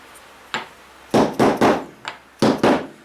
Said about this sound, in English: I like the mallet with the dead blow, or sorry, the dead blow with a block of wood